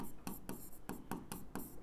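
A formula is written by hand on a board or paper in quick, rhythmic strokes, about seven close, scratchy marks in under two seconds.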